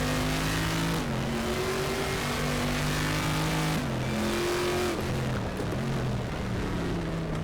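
Group 5 V8 race car engine in the Raceroom video game at the Macau circuit, a loud continuous roar that climbs in pitch through the gears with several shift drops, steady and close throughout.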